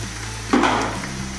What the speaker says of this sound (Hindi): देखिए माशाल्लाह कोफ्ते हमारे फ्राई हो चुके हैं।